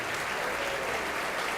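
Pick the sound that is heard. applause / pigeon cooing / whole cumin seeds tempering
applause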